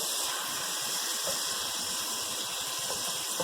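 Mutton pieces frying in a pan for aloo gosht, giving a steady, unbroken sizzle and hiss that stays even and fairly loud throughout, with no voices over it.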